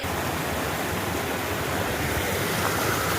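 Stream water along a rocky Appalachian Trail stretch near the Nolichucky, funneling through a narrow spot and rushing out; a steady, full broadband roar that holds close and constant throughout, with no talking.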